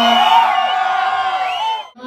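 A crowd at a concert during a birthday celebration lets out a loud, sustained collective yell, one long shout that holds for nearly two seconds before dropping off.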